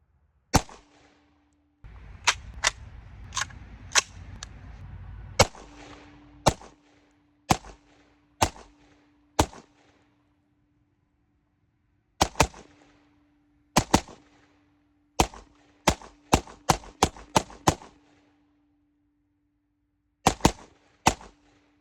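Suppressed 5.56 rifle shots fired through a 30L can outdoors, sharp single reports spaced out irregularly, some in quick clusters, with a steady hum and a stretch of rushing noise early on.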